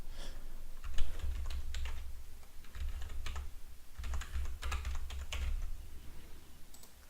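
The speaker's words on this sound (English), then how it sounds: "And we're going to type in our secret here." Keys clatter on a computer keyboard while a secret is entered into a RADIUS server setup for a hotspot billing portal, with steady bursts of typing and brief pauses over a low background hum.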